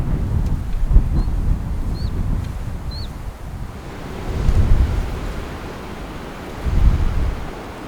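Strong wind buffets outdoors above an abandoned Aegean village near Urla, İzmir, rumbling loudly in gusts against the microphone, with a few faint high bird chirps early on and no talking.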